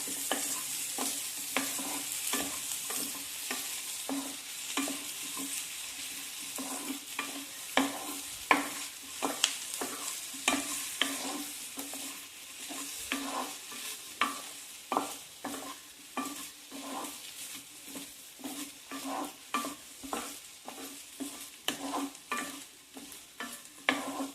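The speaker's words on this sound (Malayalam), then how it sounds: "ഉരുളക്കിഴങ്ങ് ചേർത്ത് കൊടുക്കാം. നന്നായി മിക്സ് ചെയ്യുക." Chopped potatoes being stir-fried for a South Indian poriyal, with a steady sizzle under a continuous run of scraping spatula strokes against the pan, close and fairly even in rhythm.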